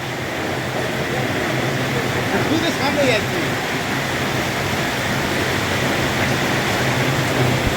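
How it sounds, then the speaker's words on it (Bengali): Heavy, steady rain during a week-long downpour in Kerala, a dense continuous roar that fills the scene without letup, with no clear voices. "দেখুন এত পরিমাণ বৃষ্টি হচ্ছে যা আমাদের কাজ করা অসম্ভব হয়ে গেছে"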